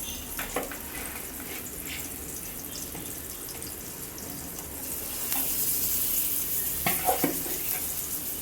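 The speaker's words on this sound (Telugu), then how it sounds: "అవి కూడా ఫ్రై చేసేసుకుంటాను." Fish pieces frying in a pan, a continuous crackling sizzle with scattered sharp pops and light clatters, swelling louder in the second half, heard close with no speech.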